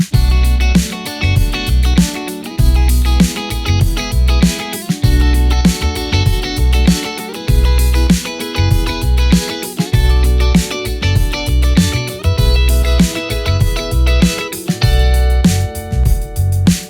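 An effected electric guitar plays triad inversions on the top three strings with accented sixteenth-note rhythms, a continuous rhythmic part over a steady beat and bass, full and loud throughout.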